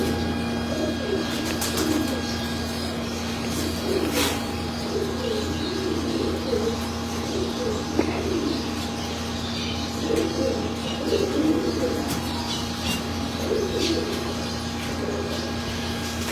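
Top-class breeding pigeons coo in soft repeated phrases inside a loft, with occasional chirps over a constant electrical hum, no voices.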